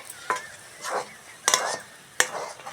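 Loitta (Bombay duck) fish is stirred in a hot kadai for a village-style fish bhurji, giving four distinct scraping stirs over a soft background sizzle, close and moderately loud.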